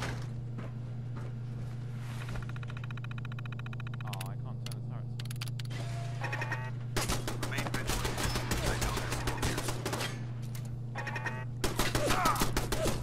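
Automated turrets in Fallout 4 open fire in rapid bursts of gunshots that grow louder and denser partway through, layered over a steady low game hum with voices talking at times.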